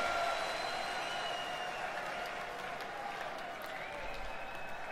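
Concert crowd applauding and cheering on a Judas Priest live recording, a faint, steady wash of distant clapping and crowd noise under music, continuing without a break.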